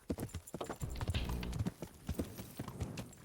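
Horse hooves clip-clop at a trot in the medieval game Kingdom Come: Deliverance, a close, steady run of hoof strikes with a brief whinny-like tone in the middle.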